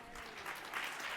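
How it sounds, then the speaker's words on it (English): Steady applause from an audience thanking a panel at a talk on economic regulation, a dense even patter of many hands held at one level. "why don't you keep up the clapping to thank our panel for being here, and then Anita will tell us what to do."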